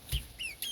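Garden chickens waiting to be fed give a quick burst of close, bright clucks and chirpy calls, a few short notes in under a second.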